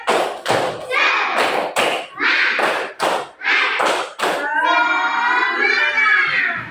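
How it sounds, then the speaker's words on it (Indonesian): Elementary schoolchildren in a classroom perform a rhythmic spirit clap, sharp loud thumping claps in a patterned sequence chanted along in their voices, ending with a drawn-out shouted cheer. "Ayo, tepuk semangat."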